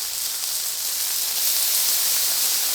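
Diced steak searing in a hot pan for steak fried rice gives a loud, steady, hissing sizzle that runs unbroken throughout, with no voices.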